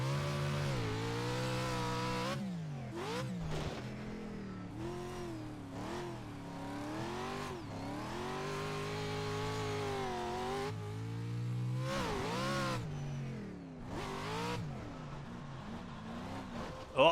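A Pro 2 off-road truck engine in the iRacing sim at Wild Horse revs hard and continuously, pitch sweeping up and down through gear changes and throttle lifts, loud and close with no talking.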